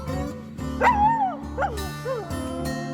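A dog barks and whines several times over music in a song, the yelps rising and falling with a mournful pitch and standing out above a steady musical backing.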